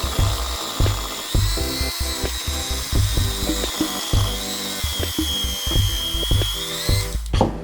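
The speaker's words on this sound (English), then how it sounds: "And then I use the electric whisk" An electric hand whisk whirs steadily as it beats eggs and butter in a bowl, the motor's pitch wavering with uneven thumps and rattles of the beaters against the bowl, loud and close throughout.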